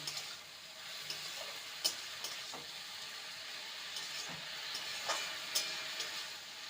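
Jute leaves and potatoes are stir-fried together in a pan, a quiet low sizzle broken by occasional spoon clinks and scraping stirs against the pan.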